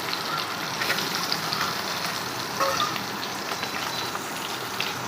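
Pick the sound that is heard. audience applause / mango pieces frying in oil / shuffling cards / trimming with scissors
mango pieces frying in oil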